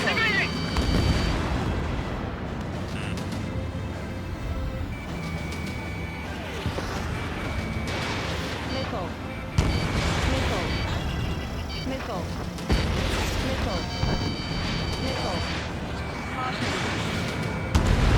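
Missile explosions in Ace Combat 7 aerial combat: a dense run of rumbling booms and blasts over continuous jet roar, with in-game radio voices talking throughout.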